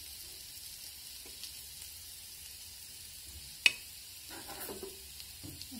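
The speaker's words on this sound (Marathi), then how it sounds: "उरलेले पीस पण आपण तळून घेऊ।" Surmai (kingfish) pieces fry in oil on a tawa, a faint steady sizzle with a sharp clink of a utensil partway through and soft stirring sounds afterward, with no talking.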